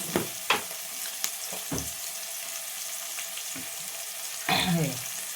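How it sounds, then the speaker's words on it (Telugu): Semiya vermicelli frying lightly in a pan, a soft continuous sizzle with occasional scraping clicks of a stirring spoon and a brief louder rustle near the end. "లైట్గా వేగాలి, లైట్గా వేగితే చాలు"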